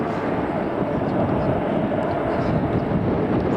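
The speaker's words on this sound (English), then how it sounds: "It's Boeing 737 Max 8-200." Ryanair Boeing 737 Max 8-200 jet, operated by Malta Air and arriving from Rome at Manchester Airport, gives a steady broadband engine roar that holds at constant loudness throughout, with no distinct onset or fade.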